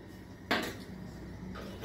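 A lid set down on a cooking pot on a medium flame, one sharp metallic clink followed by a fainter clatter a moment later, close and alone over quiet background.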